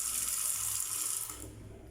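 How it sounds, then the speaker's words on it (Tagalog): Water pours steadily from the faucet into a deep stainless steel kitchen sink, a bright continuous hiss that eases slightly toward the end, close and alone. "At yung lababo natin, buksan natin, may tubig."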